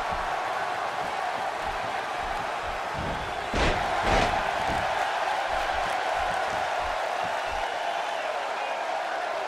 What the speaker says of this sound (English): Another electric crowd on hand here for SmackDown